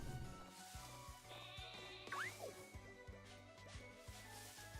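Synthesized sheep bleat from a Pokémon video game, a short rising-and-falling cry near the middle, heard over steady game music with looping tones and rhythmic beats.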